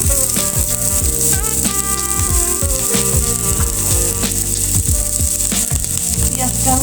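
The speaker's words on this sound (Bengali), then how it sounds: "পেঁয়াজটা আমি ভেজে নিব।" Chopped onion frying in hot oil for a mustard hilsa curry, a loud dense sizzle with frequent clattering stirs and scrapes against the pan throughout.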